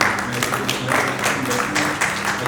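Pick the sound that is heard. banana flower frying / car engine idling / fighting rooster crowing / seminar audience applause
seminar audience applause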